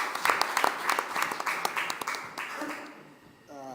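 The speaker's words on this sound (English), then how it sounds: "can we give our esteemed panelists another round of applause?" Applause from a conference audience for panelists, dense clapping swelling and fading over several seconds before it thins out into quieter room sound near the end.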